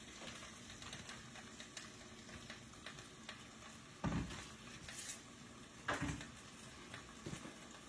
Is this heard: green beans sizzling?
yes